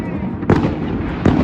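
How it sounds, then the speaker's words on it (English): Two sharp booming pops of fireworks in the distance, about a second apart, over a steady outdoor background hum. "Fireworks."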